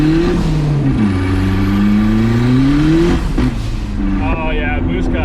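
A turbocharged Nissan truck revs hard and hits boost cut, its loud engine note rising and falling with stuttering cut-outs, heard close up alongside people talking excitedly.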